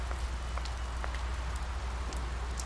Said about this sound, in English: Now I'm all alone in the rain.